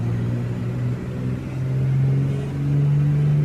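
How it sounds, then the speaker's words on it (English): The Grand Duke's turbocharged piston engine in a flight simulator: a close, steady engine hum whose pitch climbs stepwise as the turbocharger spools, with no talking over it. "You hear the turbocharge."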